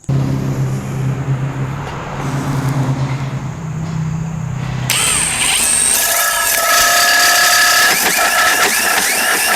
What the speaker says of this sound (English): 1007 DeWalt drill. Fresh battery, got a power pack on there. Very powerful.